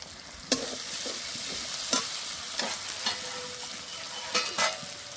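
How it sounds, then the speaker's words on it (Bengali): Ginger, garlic and spice pastes frying in a pan for Bengali egg curry, a steady sizzle under repeated scraping strokes of a stirring spoon, close and continuous, with no voices. "আদা রসুন দিয়ে কিছুক্ষণ নেড়ে নেব।"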